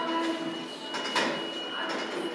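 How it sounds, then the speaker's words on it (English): A small train ride rolls past inside a shopping mall, a steady rumbling clatter with high squealing tones over a busy indoor hum, fairly near and continuous throughout. "there's a little train going passing by"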